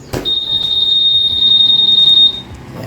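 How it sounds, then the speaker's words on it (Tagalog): A Honda Airblade 150 motorcycle alarm sounds close and loud as one continuous high-pitched electronic tone. It lasts about two seconds, then cuts off cleanly. "And yung alarm niya ay ganito po ang sound niya."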